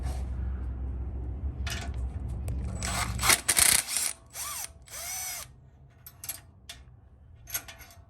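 An impact wrench with a 17 mm socket loosens a big screw on a lowrider bike, giving several short, sharp mechanical bursts with ratcheting rattles. Quiet handling noises and faint clinks fill the gaps between bursts.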